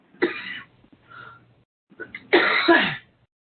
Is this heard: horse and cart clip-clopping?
no